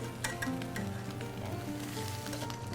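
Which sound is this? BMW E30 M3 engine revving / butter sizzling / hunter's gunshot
butter sizzling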